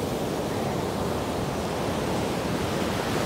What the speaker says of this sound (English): Nice waves breaking out right here.